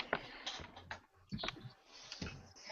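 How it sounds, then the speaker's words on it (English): Computer keyboard typing comes through faintly in uneven bursts of soft clicks and taps over a quiet background, heard briefly. "I think we can hear We that. can hear the typing."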